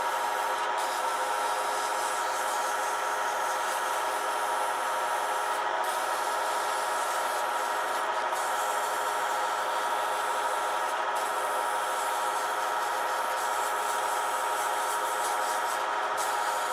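Sandpaper of 600 grit rubs an orange circuit board pen blank in a continuous, even, close scratching hiss that keeps going with only brief breaks, and no one speaks.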